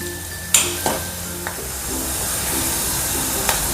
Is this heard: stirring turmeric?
yes